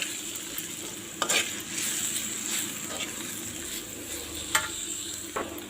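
Pepper powder being stirred into spicy egg noodles in a sizzling pan, with a continuous frying hiss and occasional sharp scrapes and taps of the spatula against the pan.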